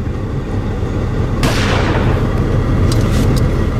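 A single rifle shot cracks once outdoors in the Kaikoura wilderness, sharp and loud over constant wind-like rumble, with no talking.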